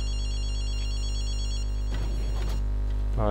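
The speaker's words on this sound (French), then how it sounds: "Téléphone." A telephone rings in a booth in the video game Maevhyl Chasses des Esprit, set in Tokyo, with a steady electronic ring tone that is loud and continuous, and brief rustling noises over it toward the end.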